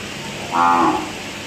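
A single cow moos once, a short, steady low call lasting under half a second over faint background noise.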